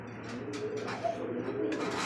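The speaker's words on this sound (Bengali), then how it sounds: "বন্ধুরা দেখতে পাচ্ছি এখানে কিন্তু হাই ফ্লায়ার এক জোড়া কবুতর, রেসার কবুতর" A pair of high-flyer racer pigeons coo softly at close range, giving a few low, brief murmuring calls over a steady background hum, with no talking.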